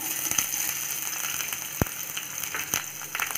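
Chopped onion and tomato sauté in a pan for a vegetable chutney, making a soft, continuous sizzle with a few faint clinks from stirring.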